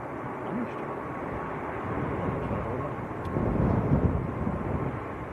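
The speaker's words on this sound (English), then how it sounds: "Ryanair from Budapest, that's a Max 8." Ryanair Boeing 737 Max 8 arriving from Budapest at a windy Manchester Airport, a low muffled jet rumble mixed with wind buffeting that grows slightly louder toward the end.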